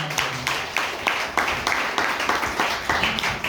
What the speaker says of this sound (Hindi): एक बार ये तीनों चारों के लिए जोरदार ताली